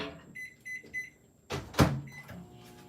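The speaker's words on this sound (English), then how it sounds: "we're gonna pop this in the microwave" A kitchen microwave oven being set to melt candy melts for birthday cookie pops gives a few short electronic beeps, then a louder thump and clatter of its door, all close by.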